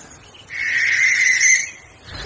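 A shrill, hissing owl call at night over a British hay meadow: one sustained, rasping screech of about a second, fairly close and clear, with no voices.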